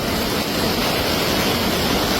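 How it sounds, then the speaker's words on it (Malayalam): Floodwater rushes down a rising hill stream at Kuruthichal, Mannarkkad, swelling over the rocks in a steady, dense roar that stays close and loud throughout, with no voices. "ആ കല്ലെല്ലാം മൂടി വെള്ളം കൂടിക്കൊണ്ടിരിക്കുകയാണ്"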